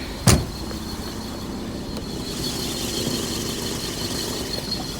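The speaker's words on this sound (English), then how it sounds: "let me turn this engine off" Car engine idling steadily under an open bonnet, a low continuous hum heard up close, opening with a short sharp knock.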